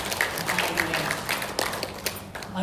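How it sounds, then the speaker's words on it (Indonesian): Congregation at a women's church service giving warm applause, a steady patter of many hands clapping that stays fairly even with a couple of sharper claps near the end. "Sekali lagi tepuk tangan yang meriah buat Tuhan Yesus."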